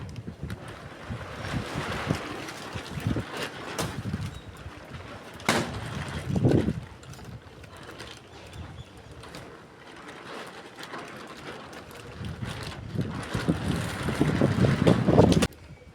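Gusty wind buffets an outdoor microphone with heavy rumbling bursts that rise and fall, strongest in the closing seconds, with no voices.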